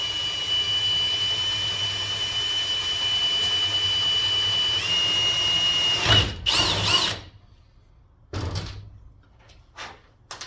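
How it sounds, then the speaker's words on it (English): A drill whines steadily for several seconds, then bursts of drilling and clunks follow in short spurts, loud and close, while drilling holes for a DIY roof rack on a Jeep Wrangler TJ. "I think I'm ready to drill. So I'm going to drill these first 2 holes"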